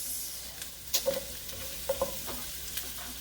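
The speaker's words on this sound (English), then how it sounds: "Put your heat on medium. And I'm going to drop over the green peppers" Green peppers sizzling over medium heat in a pan with garlic, a soft, steady frying hiss broken by a few scraping stirs of a utensil, close and fairly quiet.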